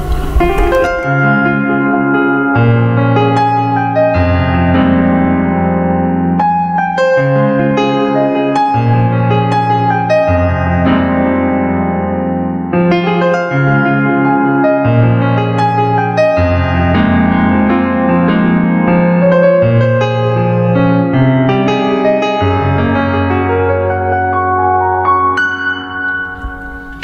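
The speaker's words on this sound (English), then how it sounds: "So let's have a listen to this piano sound." Korg Kross keyboard playing an acoustic piano patch, with sustained chords and a melodic line running continuously for the whole passage at a steady, full level, with no voices.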